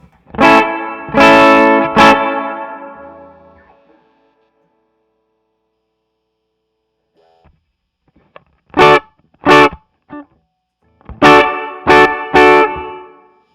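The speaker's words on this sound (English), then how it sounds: "press down reverb button, and then we're gonna move the knob. So let's just get a nice washy" Electric guitar chords strummed a few times through a Keeley Zoma reverb pedal, each ringing out into a long washy reverb tail that fades, then more strummed chords after a pause.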